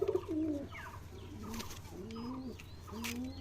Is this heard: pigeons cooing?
yes